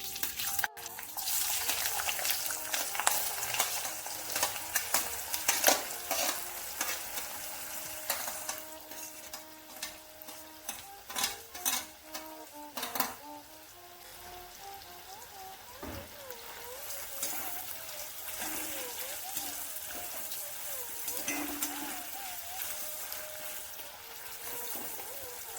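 Ginger frying in hot oil with a sweet touch of sugar, for a Vaikom-style Onam sadhya inji curry. A steady close sizzle runs throughout, broken by repeated scraping stirs of a ladle against the pan, louder early on and softer later.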